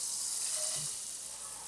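Kataifi pastry sizzles in butter in a frying pan, a steady close crackle with nothing else over it.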